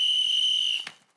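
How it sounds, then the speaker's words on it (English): A single loud, shrill blast on an emergency survival whistle with a built-in compass. The note is held steady for about a second, then ends with a short breathy cutoff. "These are our emergency whistles."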